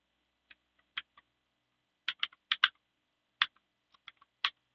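Computer keyboard typed on while coding a React form, heard as irregular bursts of crisp, close key clicks with short pauses between clusters and no talking.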